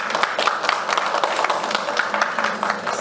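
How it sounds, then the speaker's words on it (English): A conference audience applauds the panelists of a session on decarbonised cities, giving a few seconds of dense, even clapping at close range with no talk over it. "of course, a big round of applause."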